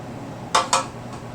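A spatula scrapes wet peasant bread dough into a pan in two quick, close scrapes and clanks, with a faint pause after the second.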